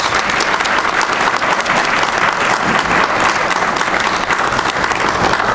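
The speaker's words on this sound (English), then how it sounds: "a big round of applause" Sustained, dense applause from a church congregation honouring members of First Baptist Church at an award ceremony, loud and steady throughout with no speech.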